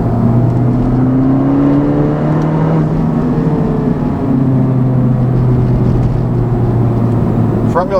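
A 2019 Honda Civic Type R with a Borla exhaust pulls hard under acceleration, its engine drone steadily rising in pitch through the gears, loud and heard from inside the cabin.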